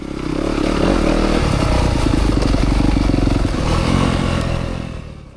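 A 2025 Yamaha YZ250FX dirt bike with a bulky silencer rides past close and loud, its engine buzzing steadily and swelling a little before it fades near the end, with some clattering and no talking.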